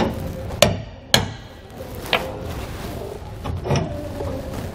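A hammer taps on the equalizer bolt of a Dexter heavy-duty tandem-axle trailer suspension, giving about four sharp metallic strikes at uneven intervals, close and fairly loud against a low background hum.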